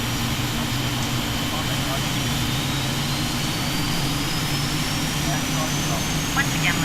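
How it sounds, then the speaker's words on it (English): A Boeing 777-300 jet engine number 1 spools up with a loud, steady roar and a slowly rising whine. The roar holds for several seconds under cabin voices. "Start engine 1"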